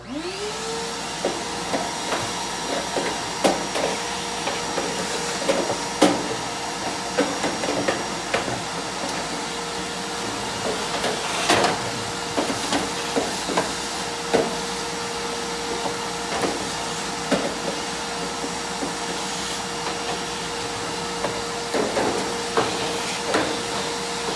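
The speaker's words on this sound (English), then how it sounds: "let's kind of blow it out a little bit" Compressed air hisses in short, repeated bursts while the inside of a Maytag Neptune gas dryer that is not heating is blown out, with a steady tone running beneath and close, sharp clatters scattered throughout.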